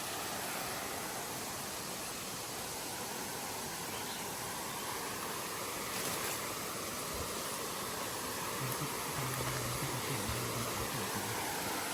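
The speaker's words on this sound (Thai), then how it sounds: "น้ำตกสวยมากพี่ดิ" A waterfall gives a steady, broad rushing roar that stays continuous and even throughout, with no voices.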